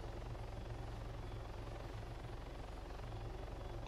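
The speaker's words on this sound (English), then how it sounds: "simply lift off and hover the helicopter in one position" Helicopter hovering in the ARMA 3 video game, a steady rhythmic rotor thump over a constant engine drone, moderately quiet and unbroken for several seconds.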